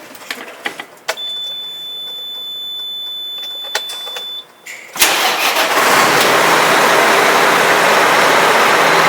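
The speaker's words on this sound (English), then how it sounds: "as I start up my truck" A truck engine cranks and catches during a pre-trip inspection, preceded by clicks and a steady chime tone, then settling into a loud, continuous rumbling idle close by.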